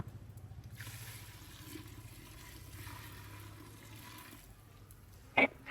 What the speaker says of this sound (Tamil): இப்போ தண்ணி ஆட் பண்ணிவிடுவோம்